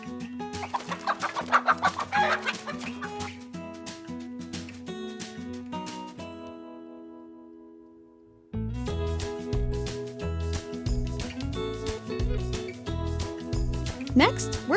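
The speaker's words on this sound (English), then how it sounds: "And last, we have the chickens." Chickens cluck in a toddlers' farm-animal learning setting, with repeated close clucks over a bright background of music and sound effects.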